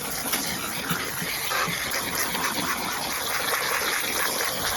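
Water poured from a hose or container into worm bedding to dampen dry spots, a steady close broadband gush and splash running continuously without pause.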